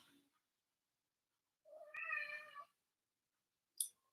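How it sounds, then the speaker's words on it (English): An unhappy cat gives a single drawn-out, fairly faint meow in an otherwise quiet room, followed by a brief sharp sound. "Cat's not happy about that."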